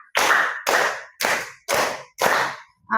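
Five sharp hand claps, evenly spaced and loud, ring out in a classroom ice-breaking clapping game, each clap crisp and distinct against near silence before a voice begins at the end.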